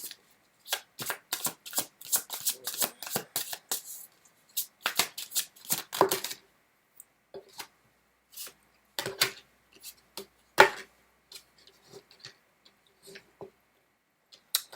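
Tarot cards being shuffled by hand, close up, in repeated bursts of quick papery riffles and slaps separated by short pauses, with a few sharper taps standing out.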